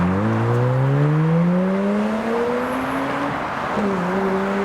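Mazda RX-8 with a limited-slip differential driving past at a car show, its rotary engine note climbing in pitch as it accelerates, loud and close, with a brief dip and recovery near the end.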